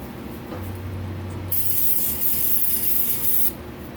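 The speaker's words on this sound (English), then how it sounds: "So I'll spray a little brake cleaner on my rag." Brake cleaner sprays onto a rag during a water pump install on a 2014 Chevy Malibu, a loud, close, steady aerosol hiss lasting about two seconds after a faint low hum.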